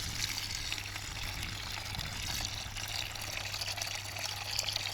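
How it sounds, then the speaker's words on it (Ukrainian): Steady rushing gush of water from a pump filling a bucket at an old country cottage yard, loud and continuous throughout with no talking. "зараз подивлюсь за скільки секунд буде відро води"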